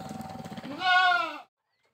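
A Boer goat bleats in a village farm pen, one loud close wavering cry rising over a low rapid engine-like rattle, then stopping abruptly into silence.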